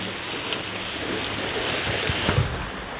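Heavy rain pours down in a dense, steady roar, close and loud, with a few louder splashes near the end and no voices.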